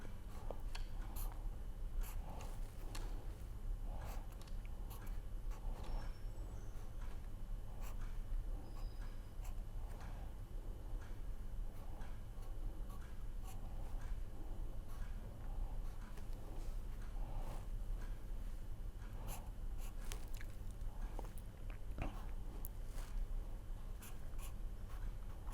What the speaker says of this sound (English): I will write here so that it is looks big